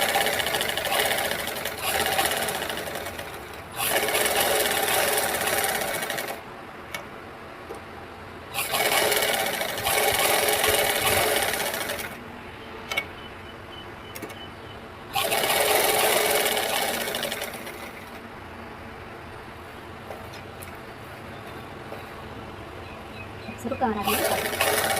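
A sewing machine stitches a blouse lining in several separate bursts of rapid whirring, each a few seconds long, with quieter pauses between them.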